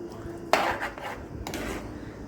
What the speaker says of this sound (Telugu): ఇప్పుడు మనం ముందుగా గ్రైండ్ పెట్టుకున్న దోసకాయ పచ్చడిని దీంట్లో వేసుకొని కలుపుకోవాలి